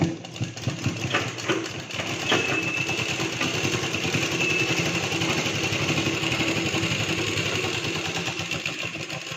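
An electric sewing machine stitching a blouse, a fast continuous mechanical whir with a rapid needle chatter, fairly close and steady with no talking.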